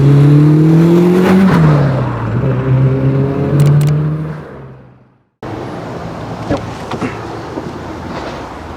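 Subaru Impreza WRX STI GRB engine pulling hard on a test drive, a steady loud drone that rises in pitch, breaks off briefly for a gear change, then continues as a rougher cruising rumble.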